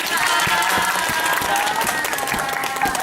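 Audience applause and cheering greeting six guests seated on stage during a Thai group interview, brisk dense clapping with excited crowd voices throughout.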